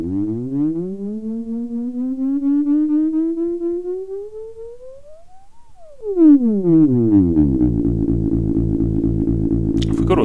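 Synthesizer sine wave driven through vacuum tube distortion with resonance, its pitch sweeping slowly upward for several seconds, then dropping sharply into a buzzy, harmonic-rich sustained tone that holds to the end.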